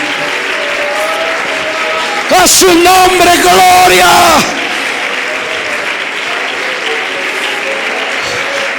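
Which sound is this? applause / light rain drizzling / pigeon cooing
applause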